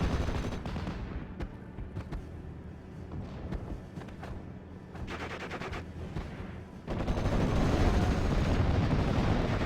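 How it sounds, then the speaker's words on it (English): Mortar and MG42 machine gun fire in a World War II strategy game battle, a dense rumbling mix of rapid bursts and booming impacts that swells louder in the final few seconds, with no voices. "Mortar team is starting to lay into the MG42 team, pinning it down, taking a lot of casualties"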